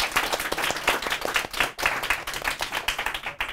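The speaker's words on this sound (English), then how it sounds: "Let's give Ian a round of applause, everybody." An audience gives a round of applause after a talk on China's underground historians, with loud, close, dense clapping throughout that swells and dips slightly.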